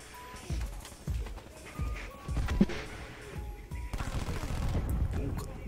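Automatic gunfire in Black Ops 4 multiplayer: repeated bursts of shots with low thumping impacts, moderately loud, over a busy game soundscape with faint electronic tones.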